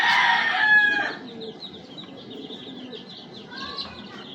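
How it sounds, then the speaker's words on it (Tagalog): Backyard chickens cluck and a rooster crows close by, with a loud burst of fowl calls at the start settling into softer clucking and scattered chick peeps. "Andyan na yung mga sisiyo"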